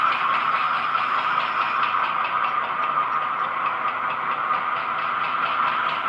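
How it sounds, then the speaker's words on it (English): A model train's small motor whirs steadily on a layout, a continuous mid-pitched hum and faint rattling clicks, holding an even level throughout without any voices. "I'm gonna take this train to the other side of the yard"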